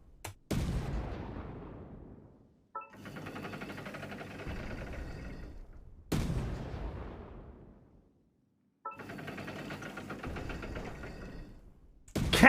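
Two deep, booming cannon blasts from Genshin Impact ring out seconds apart, each followed by a rumbling rattle as it fades, with no talking.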